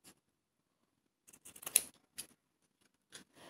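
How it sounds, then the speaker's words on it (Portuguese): Scissors snipping the corners of glued material for a baby hygiene kit, a few quiet close crisp cuts and clicks in short bursts with near silence between them. "a gente vai pegar uma tesoura e nós vamos cortar os cantos"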